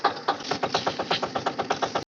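Tractor engine running on a farm, a close, steady rapid chugging of evenly spaced beats that lasts about two seconds before cutting off abruptly.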